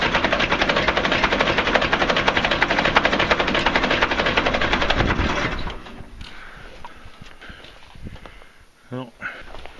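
A Kubota B275 diesel engine cranks on a cold start after its glow plugs have heated. The starter grinds steadily and rhythmically for about five seconds, then cuts out, leaving fainter scattered clatter.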